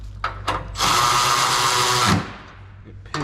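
A power drill runs in one steady whine for about a second and a half, snugging a 13 mm bolt on a 90s Chevrolet Silverado tailgate. It is loud and close, with short knocks and handling noise before and after.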